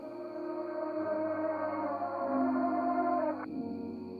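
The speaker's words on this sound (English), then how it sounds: "Let's reverse it and hear what it sounds like." A reversed audio sample cropped from a lofi chillhop beat in Ableton Live 11, giving a sustained, swelling tonal wash that builds and then cuts off abruptly into a quieter tail, heard alone without voices.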